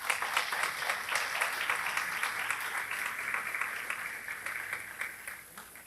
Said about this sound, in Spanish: Un cumpleaños, felicitaciones a Mora. Un aplauso,